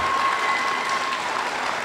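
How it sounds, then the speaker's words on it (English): An awards event audience applauds a teacher honoree, steady close clapping from many hands throughout the short stretch. "Let's give her a big round of applause for that right there."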